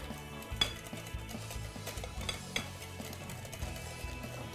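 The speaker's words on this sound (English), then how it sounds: "you don't want lumps, so try to mix it as well as you can." Herbed crepe batter whisked in a bowl, with steady scraping and clinking of utensil against the bowl, a few sharper knocks standing out over continuous low kitchen noise.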